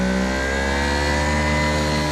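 Greenworks Pro 2700 PSI pressure washer runs with a loud, steady motor drone and a jet-like rush, constant and unbroken throughout, with no voices.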